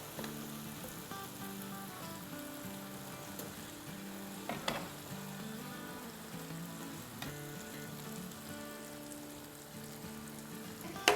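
Chicken karahi is added straight into a hot pan and fries with a steady, close sizzle and crackle, marked by a few sharper pops and stirring sounds.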